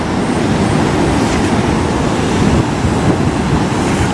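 Wind and breaking surf at Praia do Tombo beach: a loud, continuous, roaring wash of noise with steady gusty buffeting and no clear pauses.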